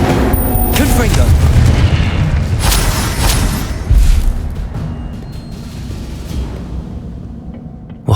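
Hogwarts Legacy gameplay with repeated Confringo spell explosions, a dense run of booming blasts with a sharp burst near the middle, layered over a constant game soundscape.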